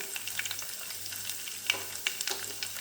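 Garlic cloves with curry leaves fry in oil, a soft continuous sizzle broken by scattered sharp pops and crackles, fairly quiet and close, with no talk.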